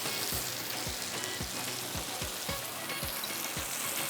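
Minced meat (qeema) for tawa qeema masala frying in a pan, a steady close sizzle with a dull thud of stirring about every half second throughout.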